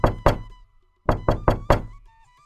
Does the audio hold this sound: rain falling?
no